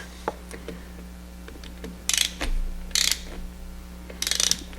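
Ratchet clicking in short bursts while turning long bolts on a 115 outboard motor, three or four distinct buzzing runs separated by pauses, close and fairly loud over a low steady hum.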